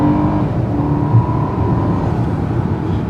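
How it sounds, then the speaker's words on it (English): A Mercedes S500 V8 (W222 S-Class) accelerates hard from a launch with a little wheel spin, giving a loud, steady engine roar that holds for about three seconds with no talking. "So we are now going to do the acceleration test. It's a little bit of wheel spin."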